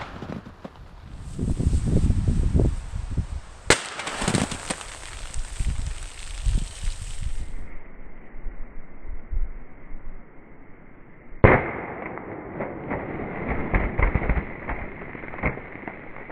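Keltec PMR30 pistol in .22 WMR shooting at soda cans outdoors, a few sharp loud cracks spaced seconds apart amid rustling, footsteps and background noise.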